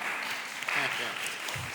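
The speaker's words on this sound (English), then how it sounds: "And ladies are going to clap for that." Women clapping during a committee budget hearing, a soft spread of applause running beneath a person speaking.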